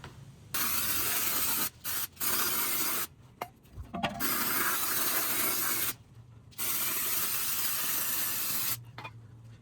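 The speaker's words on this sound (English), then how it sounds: "Just gonna spray a little of this." An aerosol can sprays onto front brake parts of a 2014–2019 Toyota Corolla, several long hissing bursts close to the microphone with short pauses and faint clinks between them.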